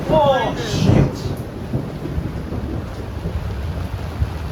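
Thunderstorm at sea off St Lucia aboard a sailboat, with a loud burst of thunder-like rumble and wind noise at the start, then steady rain and wind roar continuing underneath.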